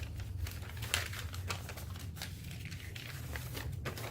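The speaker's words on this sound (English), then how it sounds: "So this one I'm going to fold, and this is going to be like a little fold out." A paper page for a teddy bear junk journal is folded and handled, giving soft crinkles and rustles over a low steady background hum, close and quiet.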